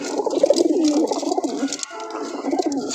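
Pigeons kept by a fancier coo continuously close by on a rooftop, a soft throaty rolling murmur of several birds that dips briefly before resuming.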